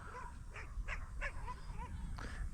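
A dog barks and yips in a string of short, sharp calls outdoors near a flying field where a radio-controlled scale model plane is being flown, over a steady low background rumble.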